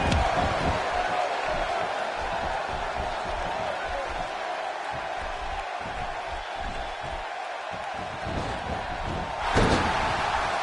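A WWE 2K16 arena crowd cheers and roars in a continuous loud wash during a SmackDown match, swelling near the end, with an announcer speaking beneath it.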